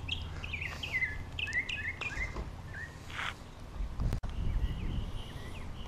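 A songbird sings outdoors at a residential property in Englewood, Florida, repeating short bright chirping phrases at moderate distance over faint background hum, with no voices.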